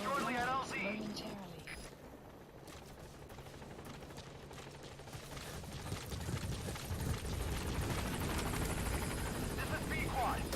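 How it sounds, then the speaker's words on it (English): Support helicopter from the video game Metal Gear Solid V arriving, a loud steady rotor and engine roar with mechanical clatter that builds and stays close throughout. "Support helicopter has arrived."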